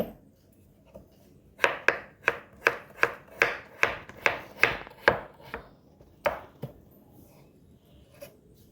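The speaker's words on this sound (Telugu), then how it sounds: "ఇప్పుడు ఆనియన్స్ ఆలు సంచన్ కట్ చేసుకుంటాం" A kitchen knife chops onions and potatoes on a board while vegetables are prepared for sago upma. There are about a dozen crisp, close chops in a steady rhythm, then a few slower, scattered cuts, and no talking.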